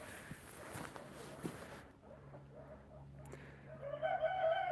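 Chickens cluck softly inside a chicken coop, with faint low murmuring calls and a louder cackle rising near the end.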